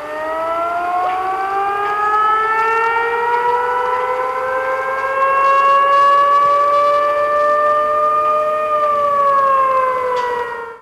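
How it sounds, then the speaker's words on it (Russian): A civil defense warning siren wails loudly and continuously during a regional alert system test in Samara, its layered tones slowly rising and falling in pitch without pause. "Что делать, когда слышишь вой сирен"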